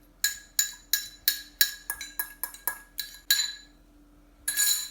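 Spoon or whisk clinking against a bowl while banana loaf batter with vanilla-flavoured egg is stirred, about a dozen sharp close taps in a quick irregular rhythm, with no talking.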